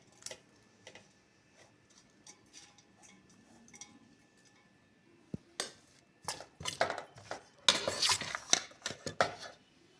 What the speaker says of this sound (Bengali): একটু নেড়ে চেড়ে দেবেন যাতে সব জায়গায় সমানভাবে থাকে।